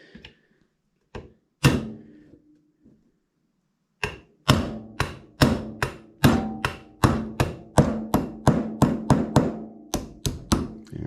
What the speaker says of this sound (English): I'm going to drive out the pin.